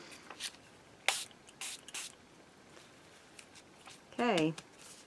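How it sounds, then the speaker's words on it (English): Homemade tea dye spritzed from a spray bottle while crafting an altered book: a few short, hissy bursts close to the mic, separated by quiet pauses, with a brief vocal sound near the end. "Oh, I guess I made tea dye spray."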